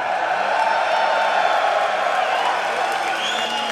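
Loud, steady roar of a large crowd at a EU LCS esports stage match, broad cheering and noise filling the whole space without pause.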